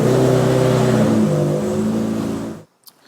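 A Mk1 Ford Escort engine on dyno rollers revs loud and close, its pitch rising then easing as the throttle drops, fading into a sharp cutoff, followed by near silence and a faint click.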